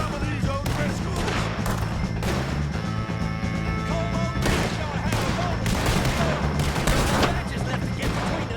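Gunfire in a Red Dead Redemption 2 shootout with O'Driscoll gang members, dense overlapping shots and bursts cracking loudly and continuously, with music and voices mixed underneath.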